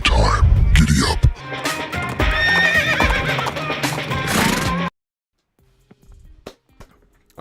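A horse neighs loudly with a long whinny, dropped in as a sound effect over other audio and followed by a couple of seconds of near silence with faint clicks.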